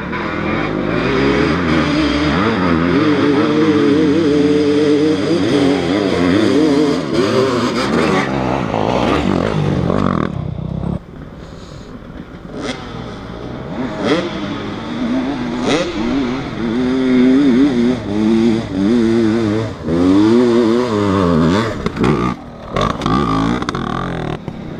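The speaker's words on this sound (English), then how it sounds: "It's a drag race." Cars drag racing give off loud, sustained engine roars with rising and falling revs, one pass after another, and a brief lull midway before the engines surge again.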